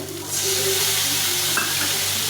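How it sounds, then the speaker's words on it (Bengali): Small potatoes stir-fried in a pan while cooking a fish curry, a loud close sizzle that swells after a moment and holds steady, with light stirring, no talk. "এই আলুটা দিয়ে দিলাম দিয়ে থেকে ভালো করে কষিয়ে দিই"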